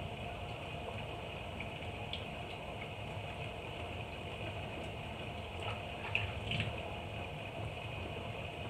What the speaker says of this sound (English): just dunk them in water a little bit.